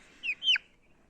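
A young chick gives two quick, high chirps close by, followed by near silence.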